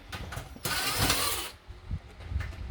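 Rapid mechanical ratcheting from a small ratchet screwdriver undoing tiny screws on a power supply, a dense burst of clicking in the middle with lighter clicks and handling noise before and after, close and fairly loud.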